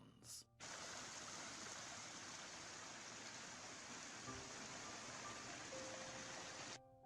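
Water from a stream on an estate, running down toward lakes and the River Derwent, flows as a steady broadband rush, close and continuous, with no speech over it.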